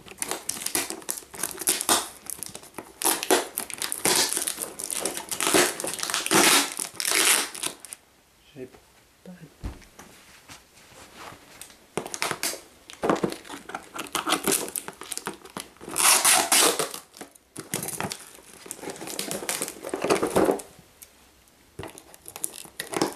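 Plastic wrap and tape are torn and crinkled off a cardboard box in loud close bursts, with pauses between the bouts of ripping and rustling while a person talks intermittently.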